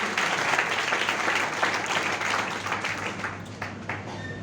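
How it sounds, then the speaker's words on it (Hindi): A crowd at a speech for young people claps together in a steady, moderately quiet burst of applause that lasts a few seconds and tapers off gently. "इनके लिए तालियां मारो"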